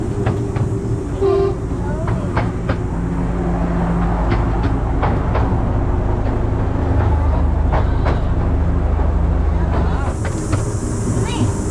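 Driving Creek Railway train ride in Coromandel, New Zealand: a loud, steady rumble of the moving train with rhythmic clicking of wheels on track and rattling carriages, heard continuously up close.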